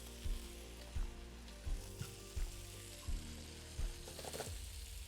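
Chicken wings fry and caramelize in oil for a herbal chicken stew, a soft, continuous sizzle under a low hum, punctuated by about seven regular dull thumps, with no talking.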